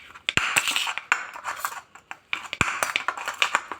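A spoon stirs chaat masala into a bread topping of butter and cheese in a bowl, giving close, steady clinks and scrapes of metal on dishware in irregular bursts, with no talking.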